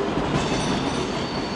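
A dividing ICE train rolls past at München Hbf in the evening with a loud, steady rumble and clatter of wheels on rails, close by and continuous.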